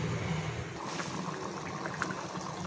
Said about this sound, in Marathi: छान उकळ आलेली आहे बघा